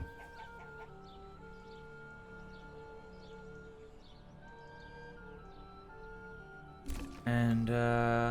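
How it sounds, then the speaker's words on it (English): Chickens at a coop in the Manor Lords village-building game cluck in soft, repeated calls over a low ambient music bed, before a sudden louder burst of game sound at the end. "Chicken coop."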